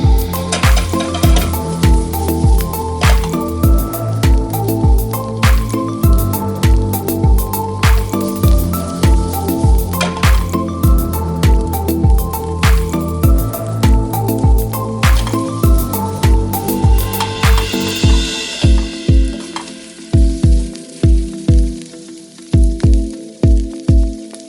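Cabbage and bean sprouts stirred in a hot sizzling pan for Filipino fresh spring roll filling, a steady fry punctuated by regular scraping strokes of a utensil that grow sparse and isolated near the end.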